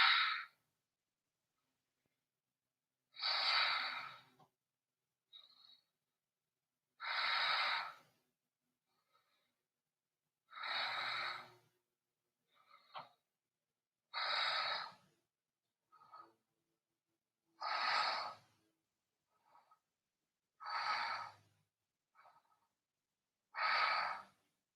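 Slow, deep breaths during a held yoga pose, each inhale and exhale a soft airy rush close by, repeating at regular intervals with near silence between them.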